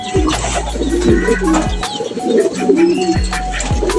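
Racing pigeons cooing at a loft as birds return from a race, with repeated low throaty coos close by, several birds overlapping, plus light chirps and rustles in the background.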